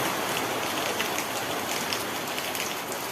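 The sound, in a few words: heavy rain falling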